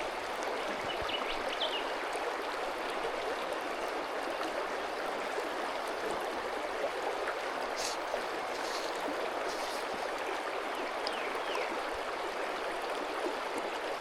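Fish River water runs steadily over big, slippery sloping rocks on a trout stream, a loud, continuous broadband rush with no voices.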